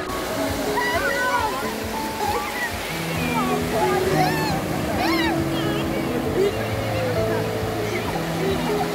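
Sea waves at Digha beach wash and roar in a steady, broad surge close by, while people talk almost continuously over the surf.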